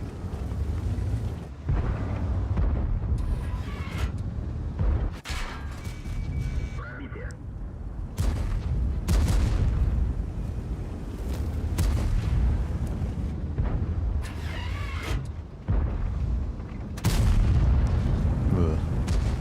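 Tank cannon shells firing in World of Tanks from an Object 265T, deep booming blasts recurring through dense game noise and rumbling engine sound, with a voice talking over them.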